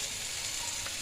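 Pangas fish curry masala sautéing in a pan, a steady, close hiss of sizzling oil with faint stirring, no voices.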